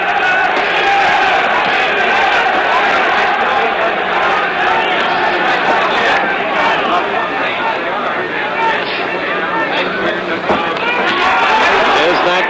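A boxing crowd in Frankfurt, Germany, 1966, roaring during a Muhammad Ali heavyweight bout, a loud continuous wash of cheering and shouting with a commentator talking over it throughout.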